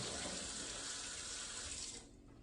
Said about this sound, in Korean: 그래서 이렇게 찬물에 얼른 헹궈가지고